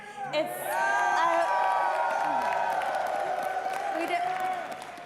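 At an esports major grand final, an arena crowd cheers and whoops behind a stage setting. The roar builds quickly and stays loud throughout, with scattered shouts rising above it.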